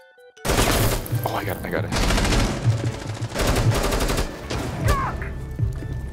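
Rapid automatic gunfire in the game Rainbow Six Siege bursts in after a quiet start and keeps rattling in dense, loud volleys with short gaps, while a player speaks briefly over it.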